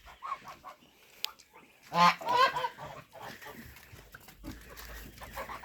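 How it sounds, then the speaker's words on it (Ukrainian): Geese honk and hiss in a farmyard, a sharp burst of cackling around the middle, with a voice and scattered animal noises nearby. "Гуси шиплять."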